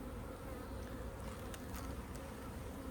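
Honey bees hum steadily throughout an open hive during a colony inspection, a dense, continuous close-up drone with no voices.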